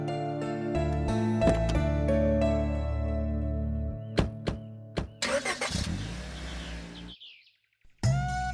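A vehicle engine starts partway through, a burst of cranking noise and a rising rumble after sustained tonal music and a few sharp hits, with bird chirps nearby and a brief near-silence before a final loud onset.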